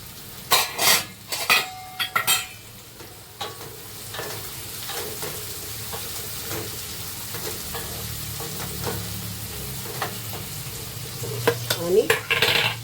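Tomato goes into cooking onions in a pan for an Agri-style dried bombil masala, opening with loud clanks of a spoon on the pan, then a steady soft sizzle with scattered stirring taps.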